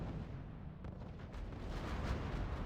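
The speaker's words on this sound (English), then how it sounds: "Going for some strafes now." Aircraft strafing run in the World War II strategy game R.U.S.E., heard as a dense, continuous roar of gunfire and rumbling explosions that swells slightly louder toward the end, with no talking.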